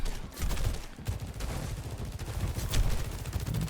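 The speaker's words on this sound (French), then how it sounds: "Ça tire dans les murs." Rapid, continuous video game gunfire striking walls, a dense rattle of overlapping shots and impacts heard fairly quietly in the background throughout, with no talking.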